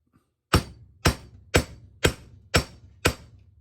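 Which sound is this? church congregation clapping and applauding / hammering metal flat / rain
hammering metal flat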